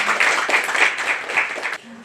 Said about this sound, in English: Everyone, please give an applause for our convener, Dr. Apurva Gupta.